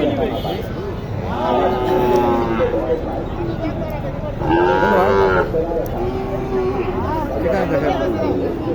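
Cattle mooing repeatedly at a busy livestock market in Naogaon selling Sahiwal and Gir heifers, several drawn-out low calls rising over a steady murmur of crowd chatter and nearby voices.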